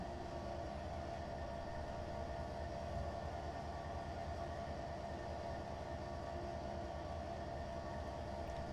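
A long freight train led by CN ES44 locomotives rumbles along in the railroad simulator Trainz, a steady, unbroken drone of engine and rolling cars at moderate distance with no voices.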